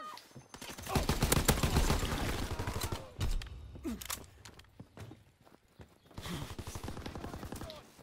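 Gunfire rings out in a Call of Duty WWII team deathmatch on the Gustav Cannon map, with rapid bursts and scattered single shots over footsteps and combat noise, plus brief voice sounds and a quieter stretch in the middle.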